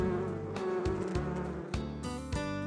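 Honeybees at a hive make a steady insect drone with a dense, wavering hum, many buzzing together close by, with occasional soft thumps.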